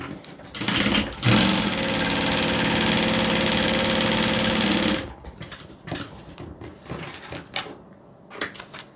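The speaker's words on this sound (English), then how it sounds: "let's quilt it" A sewing machine stitches quilting in random designs, a loud steady mechanical whir running for about four seconds after brief start-stop bursts, then stopping into quieter handling noises.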